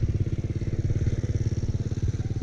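A motorcycle engine chugs close by with a rapid, steady pulsing beat, loud and rough, as it arrives and shifts down a gear, no talking.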